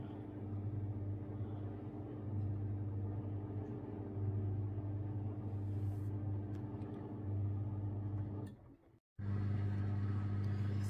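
A Samsung Ecobubble washing machine on an intermediate spin, giving a steady, loud low motor hum and drum rumble that cuts out abruptly for a moment, then resumes at full level.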